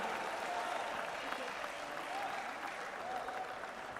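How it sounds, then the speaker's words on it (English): A crowd at a pickleball match applauds steadily, a dense sustained clatter of clapping heard from a short distance with a commentator's voice running over it. "The crowd right here cheering for Punji and Alaika."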